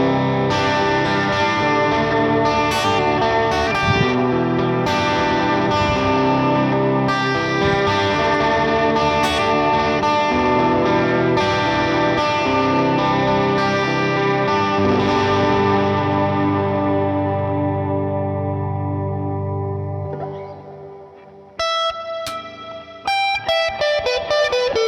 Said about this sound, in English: let's give this a little bit more gain and see what an overdriven amp sounds like going in